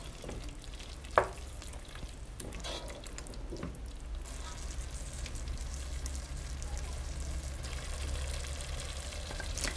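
Sausage pieces stirred into a pan with noodles, salt and spices, giving a steady loud sizzle with scattered scraping and stirring clatter, one sharp knock early on, and no talk.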